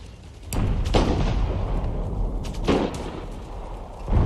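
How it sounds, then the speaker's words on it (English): Cannon fire in the strategy game Empire: Total War, with a few sharp booming shots at the start and middle of a steady roar of battle noise and no talk. "right now I'm winning the artillery duel right now."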